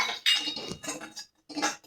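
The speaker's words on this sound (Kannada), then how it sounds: "ಈಗ ಚಿರೋಟಿ ರವೆನ ಒಂದು ಬಾಣಲೆಗೆ ಹಾಕ್ಕೊಂಡು ಹುರ್ಕೋಬೇಕು" Chiroti semolina dry-roasting in a frying pan, a spatula clinking and scraping against the metal in short irregular bursts with brief pauses, close and fairly loud, no talking.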